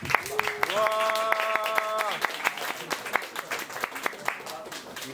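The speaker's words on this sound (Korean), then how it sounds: "박수로 환영해 주세요" An audience at a choir's concert claps to welcome the performers, with sharp individual claps and a sung or shouted tone over the top early on, thinning to scattered claps.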